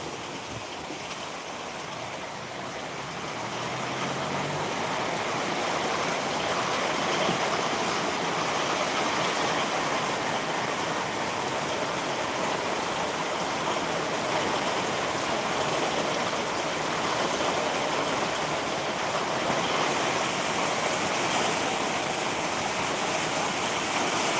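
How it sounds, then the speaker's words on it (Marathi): Heavy monsoon rain pours down over a road in Jewali, a dense roaring hiss that stays loud and constant throughout, with no voices. "धो धो पाऊस पडत आहे"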